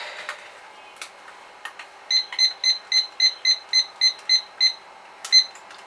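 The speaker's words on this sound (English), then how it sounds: "So we need the timer on for 10 minutes." A kitchen timer being set for a beef stew beeps in a quick evenly spaced run of about ten bright electronic tones, preceded by a few button clicks and followed by one more beep.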